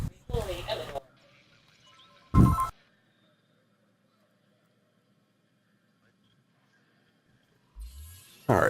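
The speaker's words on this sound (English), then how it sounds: "The phone was ringing there. Still ringing in the background." A telephone rings in the background in short separated bursts with long quiet gaps between them, fairly faint and set apart from the surrounding silence.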